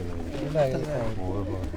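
Pigeons of the Kamgar breed coo in low, rolling murmurs mixed with close human talk, steady and fairly near throughout.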